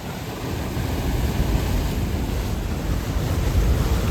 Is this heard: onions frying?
no